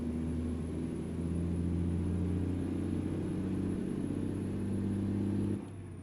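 A truck engine in American Truck Simulator drones loudly at a steady, laboring pitch, a heavy continuous straining hum that suddenly cuts off near the end.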